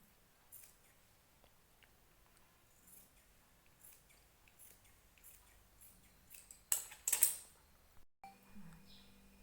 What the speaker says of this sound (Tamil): நான் சைடில் கட் பண்ணிக்கிறேன்.